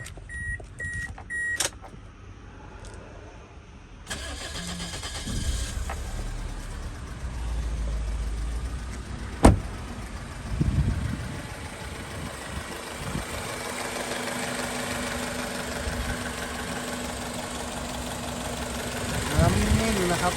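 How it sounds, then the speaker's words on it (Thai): A 2003 Toyota Corolla Altis with a 1.6 engine and automatic gearbox idles with a steady, even hum after a few clicks and a door thump, with someone talking nearby. "เดี๋ยวไปฟังเสียงเครื่องนะครับ"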